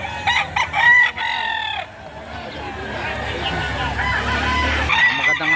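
A Golden Boy bloodline rooster, about 6 to 8 months old, crows loudly and clucks up close at a chicken market in Lipa City, Batangas, with people talking over it.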